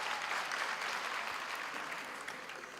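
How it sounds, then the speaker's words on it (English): Graduation ceremony audience applauding a graduate's mother, a brief burst of many hands clapping at moderate distance that tapers off gently. "Can you give her a round of applause?"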